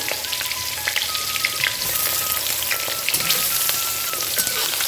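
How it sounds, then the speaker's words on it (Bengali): Eggplant pieces frying in hot oil, a dense, close crackle and spitting sizzle running steadily throughout, with scattered pops and light clinks of utensils. "এবার বেগুনগুলো আমি ভেজে নেবো"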